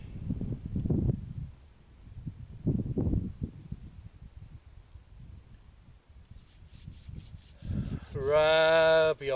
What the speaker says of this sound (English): Rub your palms.